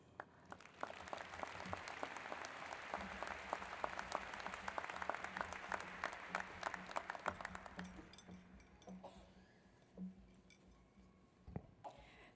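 A graduation ceremony crowd applauds as a student speaker walks to the stage. Dense, steady clapping in a large hall lasts several seconds, then thins out to a few scattered claps.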